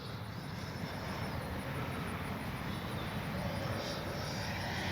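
A radio-controlled plane makes a low pass with flaps down, giving a steady, moderately loud engine drone that holds for several seconds with no talking.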